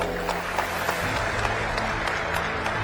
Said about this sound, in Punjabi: ਪਹਿਲੀ ਗੱਲ ਤਾਂ ਤਾੜੀ ਮਾਰ ਕੇ ਦੱਸੋ